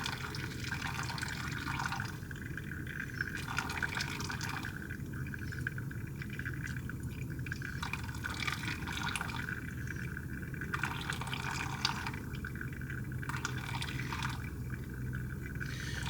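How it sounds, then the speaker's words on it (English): Water pours steadily over coffee grounds in a soft, continuous trickle, with gentle splashing that swells and eases in a slow rhythm. "And then the last pour over, that total of 15 grams of water per gram of coffee."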